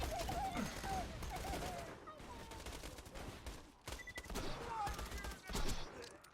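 Revolver gunfire in the video game Borderlands 2, several sharp shots with explosive bursts over game effects, while a voice talks quietly underneath.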